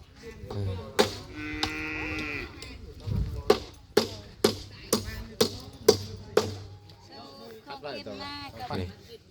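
Cattle and water buffalo on a rural Thai farm low and moo repeatedly, with sharp knocking or chopping sounds at a steady beat and people talking throughout.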